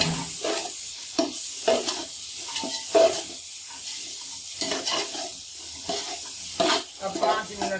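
Carrots and peas frying in a pan for a Chinese vegetable pulao give a steady, close sizzle broken by a run of scraping stirs and soft utensil clatter, with no voices.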